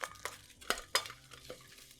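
Air-fried vegetables and gnocchi tipped from a basket into a bowl: several quick clattering scrapes and knocks, close and fairly quiet, spread over a couple of seconds.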